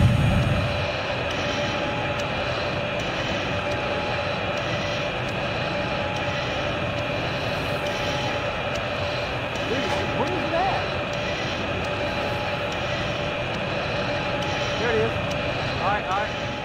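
A jet aircraft engine in the video game Battlefield 3 roars steadily throughout at close range, a dense continuous broadband drone, with a voice speaking over it.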